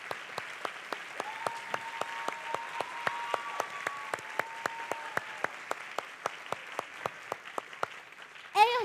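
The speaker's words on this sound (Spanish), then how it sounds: "Un aplauso fuerte para ellos." An audience at a university closing ceremony claps in steady unison for the ambassadors, with evenly spaced beats about three per second. A faint sustained tone runs underneath, and a brief louder sound comes at the end.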